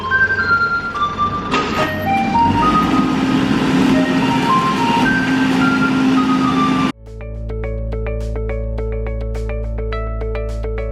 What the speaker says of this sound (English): This is the noise of the recycling.